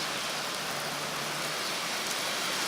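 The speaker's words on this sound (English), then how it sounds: "What a rain, look." Heavy rain pours on the Nakasendo trail in Japan, a dense, steady hiss of drops hitting leaves and ground, loud and unbroken throughout.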